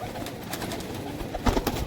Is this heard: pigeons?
yes